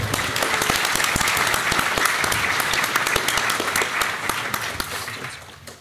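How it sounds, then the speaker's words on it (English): Steady, dense applause from a large audience at a PAX Australia convention talk, with many hands clapping loudly and continuously before tapering off at the end. "a bigger round of applause for our robot overlords"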